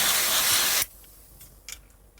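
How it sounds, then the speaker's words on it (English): Freezer spray fired into a Panasonic NV-V8000 VHS recorder: a loud, close, steady hiss lasting under a second that cuts off abruptly, followed by a few faint clicks and handling taps. "spray some freezer in there"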